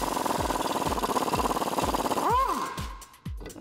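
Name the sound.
removing Jeep control arm bolt with 21mm socket and wrench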